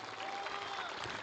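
Indonesian audience clapping together at a comedy talk show, a steady dense burst of applause with crowd noise that fills the whole brief moment.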